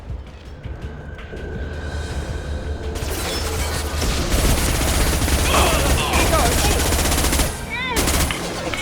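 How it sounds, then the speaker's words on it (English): High-impact gunfire in Mass Effect 2 rattles in loud, dense bursts over a busy battle din, with mechanical clanks and booms mixed in. "Firing a high-impact shot."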